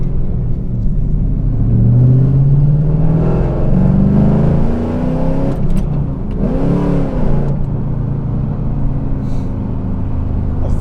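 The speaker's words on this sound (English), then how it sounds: "it's just so much fun to wring out that naturally aspirated V8, especially with that exhaust system" A 1999 Pontiac Firebird Trans Am WS6 with a naturally aspirated V8 and aftermarket exhaust, loud and close, revving up through rising pitch, backing off, then blipping again with a deep rumbling burble.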